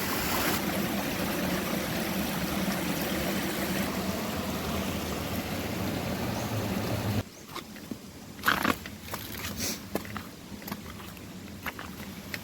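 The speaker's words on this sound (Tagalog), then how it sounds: "Ito, malinis din pala yung ilog," River water rushes over rocks at the Bunggo-Mabato River in Calamba, a steady, full roar that drops away after about seven seconds to quieter trickling with a few scattered splashes and knocks.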